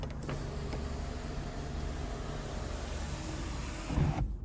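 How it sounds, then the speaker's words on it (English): The power sunroof in a 2017 Mazda 6 runs its motor with a steady electric whir under quiet cabin ambience, then ends with a short thunk as it stops. "Here's our power sunroof, which we can one-touch tilt or slide."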